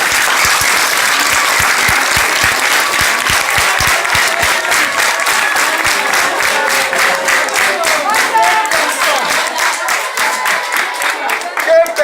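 A large crowd at an outdoor political rally in Benin applauds loudly and steadily, a close, dense roar of clapping that later shifts into a rhythmic, unison beat as voices mingle in.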